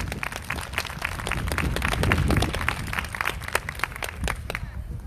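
An outdoor evening audience at a courtyard cultural event applauds steadily for several seconds, many hands clapping in a dense, continuous patter that swells in the middle and then thins out.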